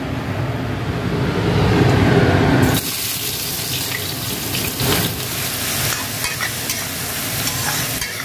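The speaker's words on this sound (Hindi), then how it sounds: "तेल गर्म हो चुका है, इसमें थोड़ा जीरा डाल दें।" Cumin seeds crackle and sizzle steadily in hot oil in a pan for a Hindi-style chicken curry, a dense frying hiss that drops slightly after a few seconds and carries on with small pops and stirring.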